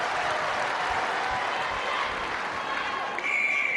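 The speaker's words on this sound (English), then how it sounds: "And listen to the crowd." Crowd noise at a netball world cup match between Jamaica and Malawi, a steady, broad roar of cheering and clapping filling the arena throughout, with faint voices mixed in.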